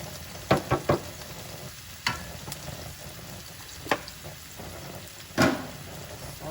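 Mushrooms sautéing in a pan with a low, steady sizzle, punctuated by several sharp scrapes and clatters of stirring, without speech.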